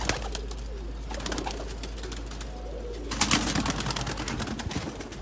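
Fancy pigeons kept by a hobbyist in Sialkot coo in soft low phrases nearby, with rustling and handling noises growing louder in the second half.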